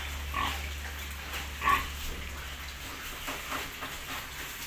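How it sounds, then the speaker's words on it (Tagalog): Six fattening pigs of about 50 kilograms grunt softly in a backyard pen, with a few scattered snorts and one louder grunt near the middle over a low steady hum. "Ito naman yung mga 6 na baboy."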